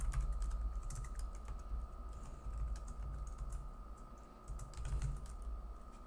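Steady keyboard typing while writing JavaScript code, a continuous stream of soft close keystrokes over a faint constant hum, with slight pauses between bursts.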